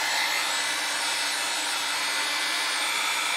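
A blow dryer runs steadily to dry alcohol ink on an art background, a loud, continuous breathy whoosh with no breaks.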